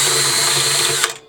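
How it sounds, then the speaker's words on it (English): A power drill spins a drum key in reverse, loosening drum head tension rods in a steady, close mechanical whir with ratcheting texture, cutting off abruptly near the end. "it's basically a drum key that can go in a drill"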